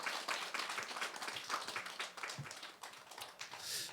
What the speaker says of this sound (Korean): 우리 위로의 박수 하겠습니다.